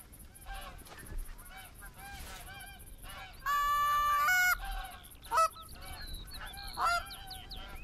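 Geese in theHunter: Call of the Wild honk in loud, repeated calls, several overlapping, with one long sustained honk in the middle, over quiet game ambience.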